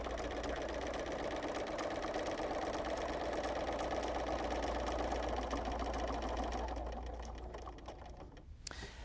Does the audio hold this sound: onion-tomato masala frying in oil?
no